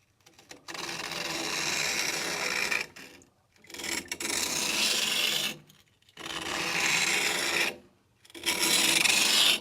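A newly forged knife edge rasps across a coarse King 120 grit whetstone in three long, steady grinding strokes, each separated by a brief pause.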